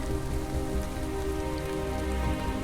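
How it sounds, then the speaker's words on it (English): Steady monsoon rain pours onto the ground and foliage along the Everest Base Camp trek, a dense continuous patter with no voices. "I love the rain and mist."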